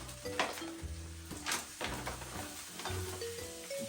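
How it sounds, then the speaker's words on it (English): Cooked cauliflower rice is scraped into a slow cooker, giving close scraping and clinking of a utensil against the pot alongside soft rustling, with steady background music. "I'm going to put in our cauliflower rice, which is done"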